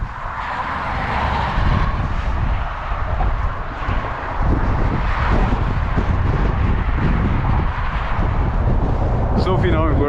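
Strong outdoor wind buffets the microphone in a constant loud rumbling roar that runs through the whole stretch, with a brief higher whine near the end.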